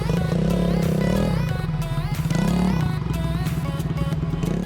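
A small motorbike being ridden at a powerboat week event, its engine puttering and revving in waves with rising and falling pitch, close and fairly loud with faint clatter.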